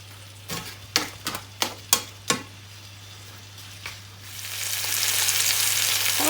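Food goes into a hot pan, with several sharp clinks of a utensil against the pan, then a steady rising sizzle as the ingredients start frying.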